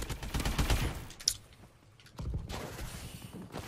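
Video-game automatic rifle fire from the AE4 in Call of Duty: Advanced Warfare: a loud burst of rapid shots, a short lull with a single crack, then another sustained volley close up.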